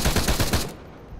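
Automatic gunfire in the military shooter Arma 3: a rapid burst of about seven sharp shots in quick succession that cuts off abruptly, leaving a faint tail.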